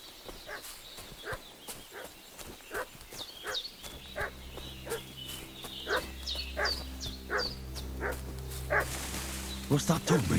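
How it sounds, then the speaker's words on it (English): A dog in Kingdom Come: Deliverance 2 barks again and again in an uneven rhythm, fairly near and loud, as a low droning hum sets in partway through. "What's that dog making such a fuss about?"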